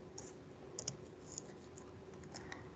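Quick, light keystrokes on a computer keyboard, typing a username into a secure shell login for a computing cluster; irregular soft clicks come in small bursts over a quiet, steady background hiss.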